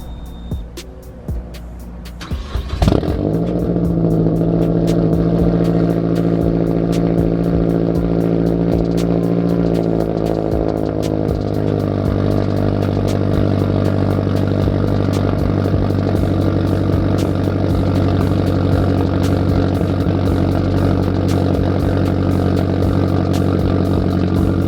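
A Mazda Speed 3 engine cranks and fires after a short, quiet pause, then settles into a loud, steady, rumbling idle that drones on evenly for about twenty seconds, with no voices over it.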